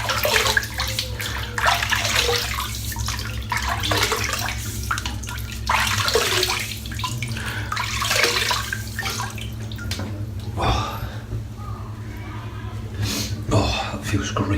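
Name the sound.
water running while wetting head for shave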